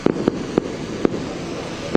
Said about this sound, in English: Of course, that's fireworks.